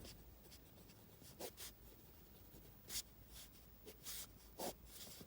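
A pen writes on paper during a maths lesson, giving soft, close scratching strokes in short irregular bursts with quiet gaps, faint and with no talking.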